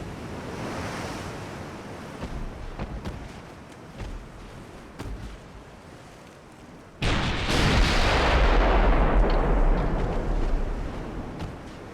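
Naval artillery fire in the naval warship game Ultimate Admiral: Dreadnoughts, with a roaring sea-and-wind bed under scattered dull booms, then a sudden loud, sustained blast of gunfire rumbling on to the end, and no talk.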